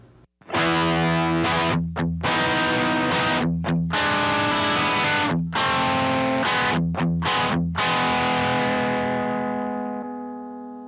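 Electric guitar played through a looping rig with the stereo spread effect switched off, giving sustained, distorted chords with a few brief breaks between phrases, loud and close, with the last chord ringing out and fading.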